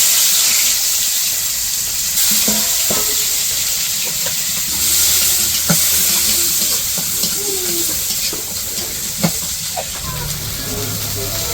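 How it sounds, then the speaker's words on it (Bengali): Onions frying in oil in a karahi for a village fish curry give a steady, close hiss with occasional small pops and clatters. A voice is heard faintly now and then. "কড়াইয়ে তেল দিয়ে দিছি, পেঁয়াজ দিয়ে দিই"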